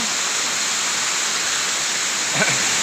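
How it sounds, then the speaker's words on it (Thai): Letongku waterfall in Tak province roars as a steady, loud, broadband wash of falling water with no talking over it. "แวะมาเที่ยวที่น้ำตกเลตองคุ กันเลย มีน้ำเย็นฉ่ำไหลอยู่ตลอดปี"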